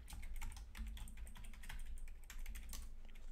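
Rapid clicking of keys on a computer keyboard, steady and close, with no voices.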